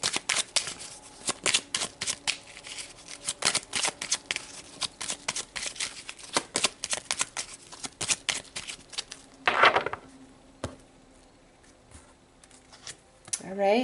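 Tarot cards are shuffled by hand in quick, crisp flurries of riffling and slapping, close to the listener. The bursts are sometimes separated by short pauses, with one denser rush of shuffling toward the end.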